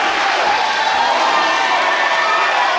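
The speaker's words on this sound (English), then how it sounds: "Listen to this crowd." A wrestling event crowd cheers and roars in a steady, loud wash of voices with no breaks.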